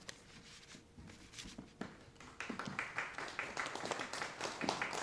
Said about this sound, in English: You can clap and be joyous.